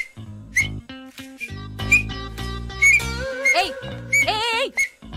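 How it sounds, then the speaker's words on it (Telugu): A man whistles in short, bright, pitched bursts, several separate notes and a few rising slides, close and clear in a film scene, with voices briefly speaking in between. "విజిల్ వేయడం నేర్పిస్తున్నా."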